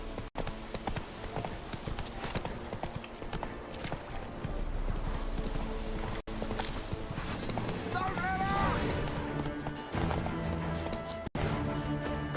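Hooves of Roach, a horse in The Witcher 3 video game, clip-clop at a steady galloping rhythm, fairly loud and continuous, alongside game sounds and a brief whinny-like tone.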